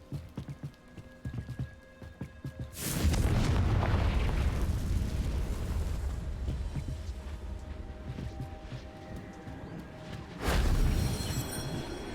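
Confringo blasting spell in the video game Hogwarts Legacy, a sudden loud explosive boom followed by a long rumbling roar, then a second sharp blast near the end.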